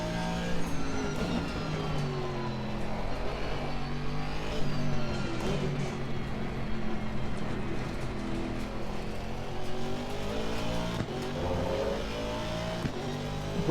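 Race car engine from the Assetto Corsa Competizione racing game, a loud continuous engine note rising and falling through gear changes and revs as the car laps, with no other sounds.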